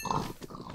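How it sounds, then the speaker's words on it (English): Horse in Minecraft giving a brief, close snort or whinny-like vocal burst lasting under a second, alone with no talking. "Now let me get on my fastest horse right here."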